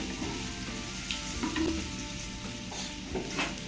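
Paneer roll filling toasts lightly in a pan, a soft, steady sizzle with gentle stirring scrapes and occasional small clinks, moderately quiet and close, with no voices.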